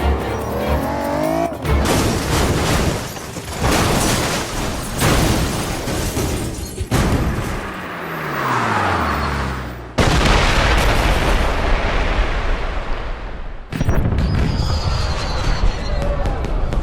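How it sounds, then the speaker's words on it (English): Heavy explosions and booming blasts erupt during James Bond Blood Stone gameplay, a dense chaotic run of loud bursts, rumbles and crackling debris with abrupt cuts between them, and voices occasionally speaking amid the noise. "Did you know there were going to be fireworks?"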